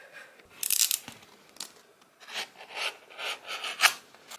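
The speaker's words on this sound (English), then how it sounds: "Now I am cutting out my piece of board." Scissors cutting through thick board unrolled from a roll for a tote bag project, giving a series of close rasping, crunching snips in irregular bursts, with no talking.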